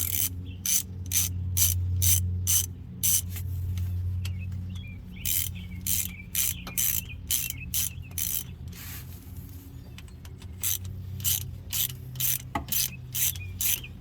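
A ratchet wrench loosens bolts on a Jeep XJ's Chrysler 8.25 axle, giving rapid bursts of sharp clicking in repeated runs with short pauses, close and clear over a low background hum.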